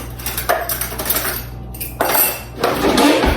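A long spoon clinks and rattles against metal kitchen utensils and dishes while being picked up, with several sharp close clatters in bursts, the loudest near the end, during preparation of cottage cheese ice cream with peanut butter.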